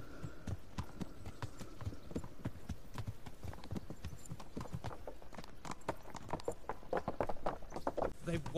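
Horse hooves clip-clop steadily at a walking pace in the medieval game Kingdom Come Deliverance, a continuous rhythmic stream of hoofbeats with speech alongside.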